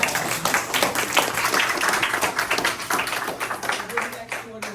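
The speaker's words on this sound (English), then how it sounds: "give her a big round of applause" An audience claps through a round of applause at a community law school event, a steady wash of hand claps at moderate loudness with a voice talking over it.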